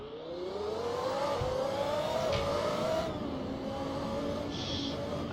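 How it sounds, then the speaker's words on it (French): An old Formula 1 car's engine in Assetto Corsa on the Algarve International Circuit rises in pitch as it accelerates, then drops back and climbs again through a gear change, a steady clear whine heard alone. "Alors on entend le bruit hein, des anciennes Formule 1."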